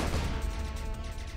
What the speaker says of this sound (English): Nice explosion, and we're done.